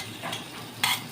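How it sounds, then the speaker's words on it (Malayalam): A ground spice paste for butter chicken is stirred and sautéed in a pan with a soft, continuous sizzle. A brighter scrape of the spoon comes near the end, and no one speaks. "ഇത് ഞാൻ അരച്ചത് പേസ്റ്റാക്കിയിട്ട് നമ്മൾ ഒന്നുകൂടെ വഴറ്റും"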